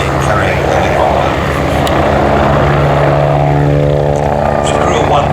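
A Westland Wasp helicopter flies at an air festival, its steady rotor and engine drone loud and continuous throughout, with a low rumbling tone holding beneath it.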